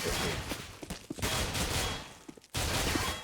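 Gunfire in a CS:GO esports match on Cache crackles in rapid rattling bursts, loud at first, then fading briefly before surging back.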